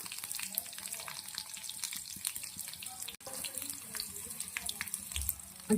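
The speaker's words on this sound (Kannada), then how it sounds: "ಫ್ರೈ ಆಗಲಿ ಈರುಳ್ಳಿ ಬೆಳ್ಳುಳ್ಳಿಯನ್ನ" Onion and garlic fry in a pan with cumin and curry leaves for a mixed greens sambar, a faint steady crackling sizzle with light clinks and stirring scrapes, and no talk.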